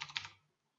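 A short quick run of clicks from typing on a computer keyboard, several close keystrokes fading out within a fraction of a second, alone with no talk.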